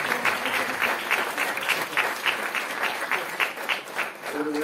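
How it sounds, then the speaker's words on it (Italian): An audience applauds the volunteers with steady, dense clapping that holds at even loudness throughout, close and continuous, and a voice briefly joins in near the end. "chiedo un applauso ai volontari che hanno fatto questo grande lavoro"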